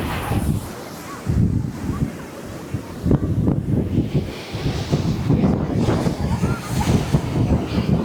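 Sea waves wash ashore at Veli beach with a rough, rolling surge, mixed with heavy wind buffeting the microphone and voices talking nearby.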